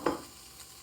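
Lean beef and green beans hit a hot pan with a brief, close burst of sizzling and stirring, then settle into a faint, steady frying hiss.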